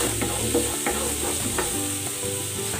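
Garlic sautés in butter in a pan, giving a steady close sizzle with a few stirring knocks and a low background hum.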